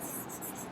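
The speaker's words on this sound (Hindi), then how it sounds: "इस रिएक्शन को मैं लिख के बताती हूँ।" A pen scratching across paper as a chemistry answer is written out, a short, soft, steady scratch heard alone and close.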